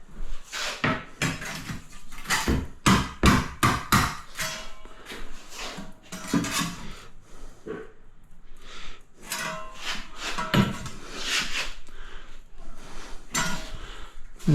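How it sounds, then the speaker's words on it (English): A rubber hammer tapping white ripple wall tiles into place, giving a run of dull knocks in quick clusters with soft handling clatter between them, heard close up. "Where's my rubber hammer?"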